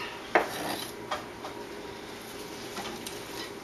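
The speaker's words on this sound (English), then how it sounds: "Then you want to scrape it all in there." A utensil scraping lettuce into a bowl, heard as faint, close clinks and light scraping of utensil against dish, a sharp tap near the start and softer scrapes after, with no speech.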